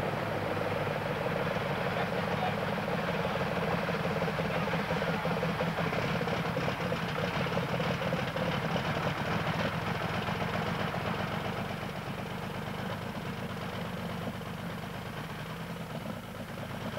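A 1987 NTPA pulling tractor in the USA, driven by a twin-turbocharged aircraft engine, holds a steady, dense mechanical drone with a fast pulsing texture, loud at first and easing slightly toward the end.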